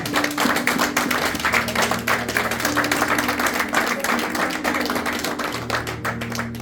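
Church congregation clapping in praise of Jesus, a steady rhythmic patter of many hands filling the room over sustained music, with no pause throughout.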